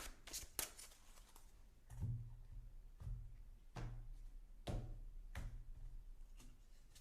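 Tarot and oracle cards being shuffled nearby, a series of crisp riffling bursts separated by short pauses, quiet and close with no talking.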